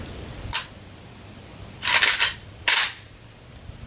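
Rifle shots at an outdoor shooting range during an ammo test: one sharp report, then a rapid cluster of loud cracks, then another single blast. Each is close and loud and separated by quiet.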